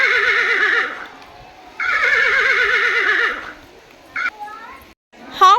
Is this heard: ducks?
no